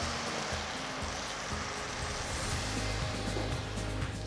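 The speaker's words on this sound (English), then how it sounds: "Add the tomato puree." Tomato puree sizzles and spatters in a hot pan with ginger garlic paste and golden browned onions, a dense close hiss with crackling pops throughout, no talk.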